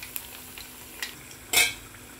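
Onion vada frying in hot oil as the pan is stirred, with faint scattered clinks and one short louder scrape of a utensil near the end, quiet overall.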